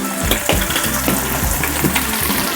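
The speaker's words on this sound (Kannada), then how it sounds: "ರುಬ್ಬಿದಂಥ ಮಸಾಲೆನ ಹಾಕ್ತಾ ಇದ್ದೇನೆ." Ground masala drops into a pan of curry made with colocasia root, sizzling and frying loudly and steadily up close, with a wet, bubbling hiss throughout.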